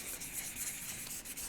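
Faux Bone is hand sanded with 400 grit sandpaper braced against a bench pin, giving a close, steady rasping rub with quick back-and-forth strokes and no voices.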